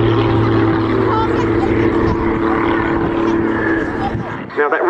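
A Pitts aerobatic biplane with a loud propeller engine drones steadily as it hangs on its propeller and falls back through its own smoke at an RAF airshow, the roar sustained and close, easing slightly near the end.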